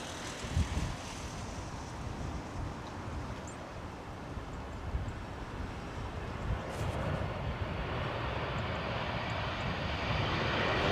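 A KLM Boeing 737 with CFM engines at Heathrow in high winds gives a loud, steady broadband engine roar that slowly builds, with gusty wind rumble underneath and no talk.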